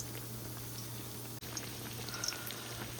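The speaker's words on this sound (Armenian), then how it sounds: "Այստեղ արդեն մեր կոտլետները ձևավորել եմ և տապակվում են" Shaped fish cutlets fry in a pan with a quiet, even sizzle over a low steady hum, broken by a brief dip and a few faint pops.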